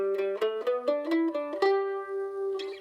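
Mandolin picking a bluegrass G run, a quick sequence of about eight bright plucked notes stepping through the phrase and ending on a sustained ringing note, played solo and close.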